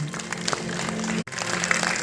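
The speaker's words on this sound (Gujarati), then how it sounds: "ફરી ફરી જોરદાર તાળીઓના ગુંજારાઓથી સાહેબના સન્માનને વધાવી રહ્યા છીએ" An audience applauding to honour a guest at a gathering, a dense, continuous wash of clapping with a brief cut midway.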